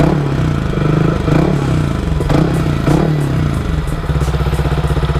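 A big motorcycle with an Akrapovic full exhaust and silencer revs close by, its loud, throaty engine note rising and falling in bursts over a steady idle rumble, with some clattering and mechanical knocks mixed in.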